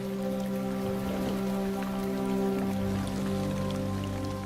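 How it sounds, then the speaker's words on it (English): Rain falls across the Luangwa valley in Zambia, a continuous patter and splash on surfaces under a low steady hum, with no talking. "As the rains roll in"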